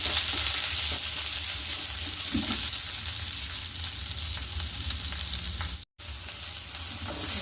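Onions fry in a pan after mustard seeds have popped, giving a loud, continuous close-up sizzle with faint stirring, no talk, and a short silent gap near the end.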